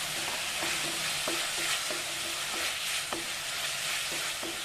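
Bitter gourd simmers in tamarind water in a pan for a Malnad-style bitter gourd palya, a steady close sizzle and bubble broken by regular spoon strokes scraping the pan, with no talking.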